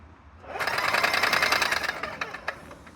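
A plugged-in paint sprayer machine switching on, its motor buzzing into a fast mechanical rattling drone for about two seconds, then sputtering with a few uneven knocks as it winds down.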